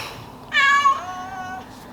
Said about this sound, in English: let me pause the video real quick because our neighborhood cat came to visit